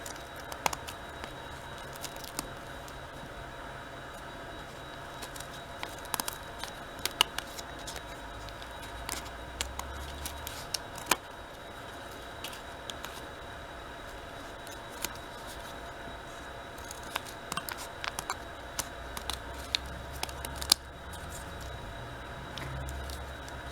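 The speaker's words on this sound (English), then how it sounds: "So I'm just going to maybe cut some shapes." Scissors cutting shapes out of folded paper for a snowflake, repeated faint crisp snips and rustles scattered irregularly over a quiet steady background hum, with no voices.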